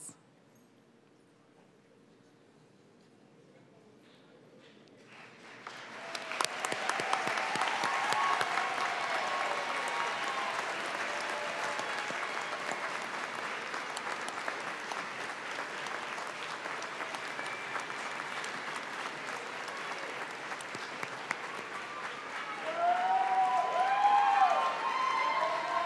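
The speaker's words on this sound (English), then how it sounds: "I was going to have to prompt you to give a round of applause" After a quiet stretch, an audience at a college graduation ceremony bursts into sustained applause that swells and stays dense for about twenty seconds, with a few faint voices and cheers mixed in.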